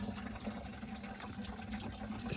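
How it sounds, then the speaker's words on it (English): Coolant drains from the radiator petcock of a 12-valve Cummins engine, a steady, close trickling rush of liquid with a low, constant hum beneath it and no talking. "You can hear how the water picked up speed."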